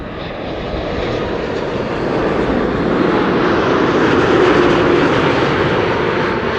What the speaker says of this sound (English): That's a 787-10 Dreamliner.